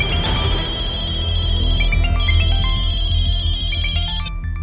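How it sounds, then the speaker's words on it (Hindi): A mobile phone rings loudly and close by with a bright electronic ringtone melody, a tone sequence that repeats steadily before cutting off abruptly near the end. "जब मैं किसी को फोन करूं तो वो उठाता नहीं है, और अभी टे टे टे टे टे टे करके बज रहा है।"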